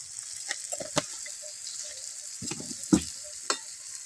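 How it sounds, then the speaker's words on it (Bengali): Spice masala with turmeric and chilli powder frying for a country chicken curry, a soft hiss with scattered spoon scrapes and a couple of sharper wet sputters, close and moderately quiet, no speech. "দিয়ে মশলাটা ভালো করে ভেজে নেবো।"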